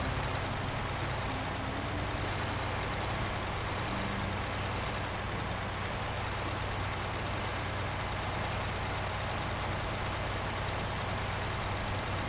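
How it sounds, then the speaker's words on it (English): Steady low drone of a KamAZ 6350 truck engine in the off-road driving game Snowrunner, running continuously at an even, loud level with a heavy low rumble and no talk. "I have to say I really like the sounds of the trucks."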